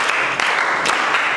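A classroom of students claps for a classmate in a short, loud burst of close, dense hand clapping lasting just over a second.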